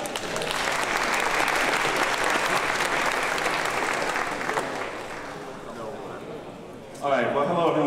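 An audience claps loudly and steadily to welcome a speaker onto the stage at a memory forensics talk, fading after a few seconds, then a voice begins speaking near the end.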